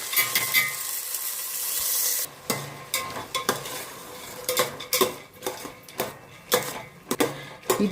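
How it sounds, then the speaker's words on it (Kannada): Field beans (avarekalu) frying and being stirred in hot oil in a pan, with a steady sizzle at first, then repeated scraping and clinking of a metal spoon against the pot. "ಫಸ್ಟು ಇದನ್ನು ಸ್ವಲ್ಪ ಫ್ರೈ ಮಾಡಿ ಎತ್ತಿಟ್ಕೊಂಡ್ಬಿಡ್ತೀನಿ"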